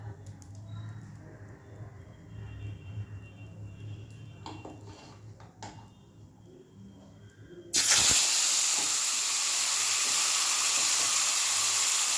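A rita fish head goes into hot oil in a pan after some quieter kitchen clatter, setting off a sudden, loud frying hiss that keeps going strongly to the end.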